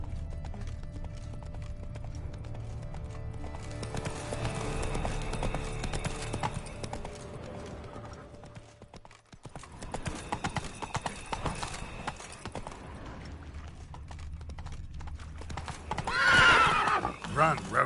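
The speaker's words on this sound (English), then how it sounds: "Drove off the road. Horses must have gotten spooked." In The Witcher 3, horse hooves clip-clop in a steady rhythm while a horse neighs, with a louder whinny near the end; someone speaks over the hoofbeats, and the sound briefly drops out midway.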